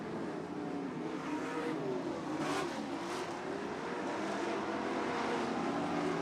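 Dirt track race cars battling in a heat at the Dirt Devil Grand Nationals, a continuous loud engine roar from several cars with passing swells, no talk.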